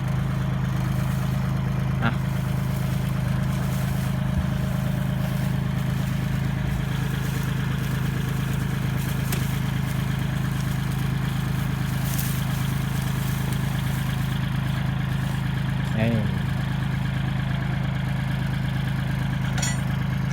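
A Kubota L3608 tractor engine runs steadily, pulling a trailer through a rice field, with a constant low droning hum throughout and a few faint clicks and knocks over it.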